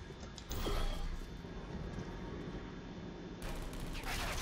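Portal 2 turret gunfire coming through portals: a sharp burst at the start, a steady mechanical rattle, then another bright burst of shots near the end, fairly close and loud.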